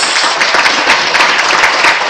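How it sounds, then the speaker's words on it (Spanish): Loud, dense applause from an audience honouring two brothers, a former referee and tailors, at an extraordinary council session, sustained evenly throughout with no talk over it. "Otro fuerte aplauso para los hermanos"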